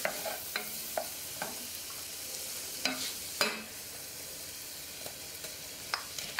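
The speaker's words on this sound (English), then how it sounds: "I'm gonna add 1 tablespoon of minced garlic" Minced garlic sizzling in a pot for Korean spicy beef soup, with a low steady hiss broken by several sharp clinks and scrapes of a utensil stirring against the pot.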